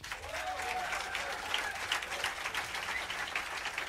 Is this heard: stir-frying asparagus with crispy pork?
no